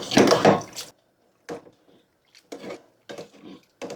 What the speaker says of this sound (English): I'm actually using a pastry cutter.